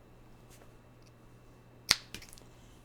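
Scissors snip through yarn in a quiet room, one sharp, crisp loud cut followed by a softer second click against a faint background hum.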